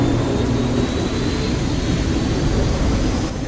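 A jet aircraft in Saints Row the Third roars loudly and steadily, a dense, unbroken engine drone with a faint high whine running throughout.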